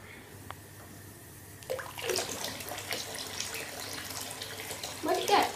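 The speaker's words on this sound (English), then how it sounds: "I'm just going to add a bit more water in" Water from a tap starts running into a bath partway through, a steady close splashing gush after a quiet start, with a voice faintly heard over it.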